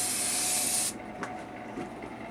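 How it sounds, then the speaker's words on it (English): A handheld sprayer hisses steadily for about a second as plants in a greenhouse are gently misted with a potent treatment, then a quiet, faintly rustling room follows. "Anyhow, just give a gentle spraying,"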